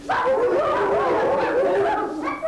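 A group of children at a 1988 children's book festival imitates a dog barking together, giving a lively chorus of voiced woofs that runs loud and steady for a couple of seconds with no other talk.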